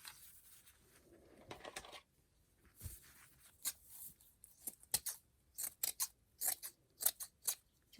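Scissors snipping cheesecloth for a journal page, a series of quiet, crisp cuts close by, sparse at first and then coming in a quicker irregular run of snips.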